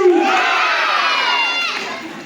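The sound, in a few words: audience clapping and cheering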